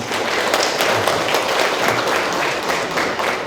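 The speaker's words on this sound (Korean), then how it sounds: "앞으로 더 열심히 해달라고 박수" Brief, steady audience applause at a Jangheung rock inscription symposium, many hands clapping at close range for a few seconds without talk.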